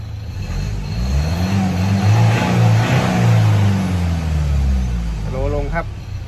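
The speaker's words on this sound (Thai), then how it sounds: "เดี๋ยวทดสอบการเร่งอัตราเร่งดูนะครับว่าจะมีเสียงเพลก ขึ้นมาไหมครับ" A pickup with a 2.2 or 3.2 diesel engine, just back from injector repair, revs up in a road acceleration test. The engine note swells and falls in a long, close, loud rise, and a voice speaks briefly near the end.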